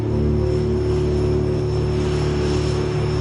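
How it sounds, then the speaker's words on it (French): Airplane cabin drone during a short Québec–Montréal flight, a loud, steady engine hum with constant tonal lines and no voices. "prend l'avion pour un court trajet Québec-Montréal"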